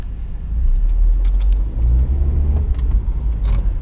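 A car being driven on a road, a steady low engine and road rumble running throughout with brief jangling of keys on top, fairly loud and close, with no talking.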